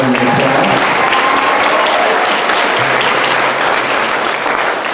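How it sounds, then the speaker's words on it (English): Audience applause fills a school band concert hall, steady and loud clapping from a large crowd lasting the whole stretch without letting up. "Y'all give Mr. Brown a big old round of applause."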